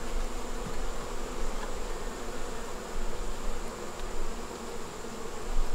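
Honey bees swarm around an open beehive while its brood frames are inspected during winter preparation, producing a steady, dense buzzing hum with small swells, close by and with no voices.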